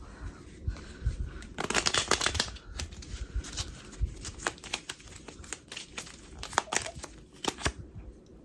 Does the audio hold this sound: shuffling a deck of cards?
yes